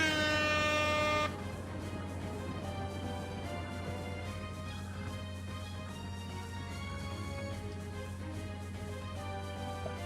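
A loud, blaring air horn blast from Super Smash Bros. Brawl sounds briefly, then drops into a steadier, sustained horn-like tone mixed with a busy musical background.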